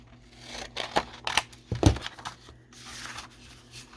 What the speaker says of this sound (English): Let's see if I trim this off, that might fit.